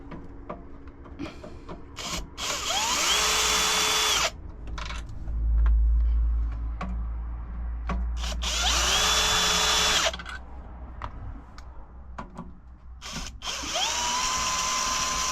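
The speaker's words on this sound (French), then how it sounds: "J'ai pris la visseuse, je vais dévisser le coupe-circuit" A cordless screwdriver unscrews a circuit breaker on a battery monitor installation, with repeated whirring bursts that rise and hold in pitch, separated by short pauses and small clicks against a steady low hum.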